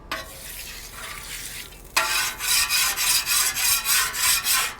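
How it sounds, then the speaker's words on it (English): A metal scraper works across a Weber Slate flat-top griddle coated with peanut oil, giving a steady series of rhythmic, close scraping strokes with a faint sizzle and no talking. "take a little peanut oil, throw that on there, scrape it a little bit more just to make sure there's nothing that's stuck on the surface"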